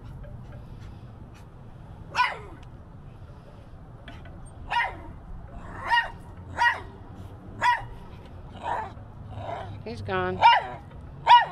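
A pet dog barks repeatedly at close range in a backyard during yard cleanup, a series of sharp separate woofs spaced a second or so apart, with a person talking over and between the barks.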